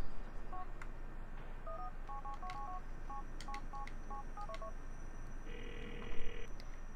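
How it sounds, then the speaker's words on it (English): Phone dialing 911 in the video game GTA 4: a quick run of dual-tone keypad beeps in irregular clusters, clear and fairly close over a low steady hum, followed by a brief higher tone near the end. "I could just call 911."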